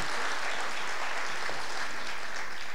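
Sustained clapping from a concert audience at a high school chorus spring concert, an even, full round of applause filling the room without speech.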